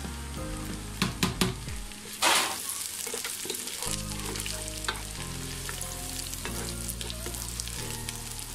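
Sliced green chillies fry in a pot for bhuna khichuri, a close, continuous sizzle with a few sharp clatters and a louder burst early on, over a steady low tonal backing, without talk.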